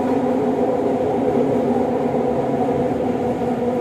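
An LRT light rail train runs with a steady, loud, droning hum of motors and rolling wheels, unbroken from start to finish inside the carriage.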